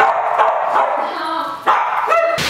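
A dog waiting for hidden treats in a game gives a quick run of short, close barks and yips with a whimpering edge, several bursts in under three seconds.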